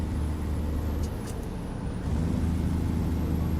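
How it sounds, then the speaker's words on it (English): Heavy truck engine in the American Truck Simulator game, a steady low diesel drone with a brief hiss partway through, loud and continuous with no talk. "This truck sounds so good."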